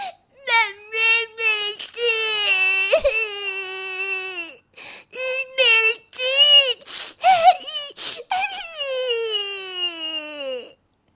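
A baby girl cries close by in repeated rising and falling wails and sobs, broken by short pauses, with no other sound around her.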